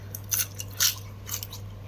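Crisp crunching bites of sausage, three or four spaced crunches close up, over a low steady hum.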